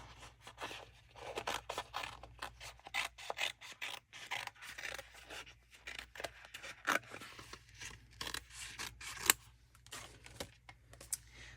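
Scissors cut out a paper title for a Christmas scrapbook layout, producing a long run of quick, close snips and rustling paper with a soft rasping quality throughout.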